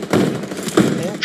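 Bursts of gunfire during a BGMI fight, two short loud volleys with a faint shot near the end, heard under some voice chatter.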